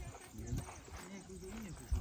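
A few faint hoof clops from working horses sound at a distance, low and sparse beneath nearby talk.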